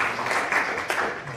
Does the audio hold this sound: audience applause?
yes